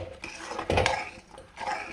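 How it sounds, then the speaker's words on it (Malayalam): Jackfruit being mixed with thick coconut milk in a pan for halwa: a few soft scrapes and clinks of a spoon against the pan, close and quiet, with no talking. "അത് നല്ലോണം മിക്സ് ചെയ്ത് കൊടുക്കാം."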